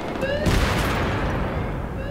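A grenade going off near the bomb site in a team shooter game, a sharp blast around the half-second mark followed by ongoing gunfire and rumbling noise, with players talking over it.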